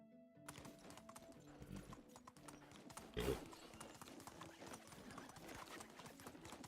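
Quiet, steady clip-clop of horse hooves in Medieval Dynasty, a continuous trotting rhythm heard throughout with one louder thud partway through.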